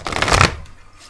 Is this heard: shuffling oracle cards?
yes